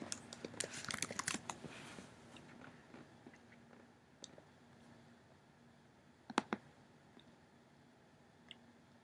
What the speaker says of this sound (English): Let me type in print book cover.